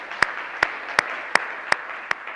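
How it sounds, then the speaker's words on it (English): A church congregation claps in unison, six sharp, evenly spaced hand claps at a brisk, regular beat with a quiet room tone between them. "Let's give Jesus a big hand clap today."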